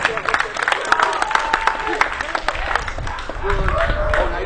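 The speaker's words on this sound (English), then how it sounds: "Come on, let me see them hand clap" An audience at a Brooklyn stop-the-violence street show with a violin performance, clapping along in an uneven rhythm, crowd noise and talking mixed in, fairly close and moderately loud.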